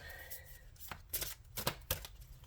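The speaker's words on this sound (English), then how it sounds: "I can actually shuffle my cards again" Tarot cards are shuffled by hand in a few quick, crisp riffling bursts, close and fairly quiet, with no talking.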